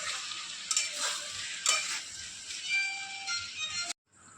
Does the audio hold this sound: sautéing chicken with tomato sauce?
yes